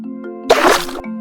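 Water spraying in a playful water fight, a single broadband splashy burst lasting about half a second over a steady musical background, loud and close.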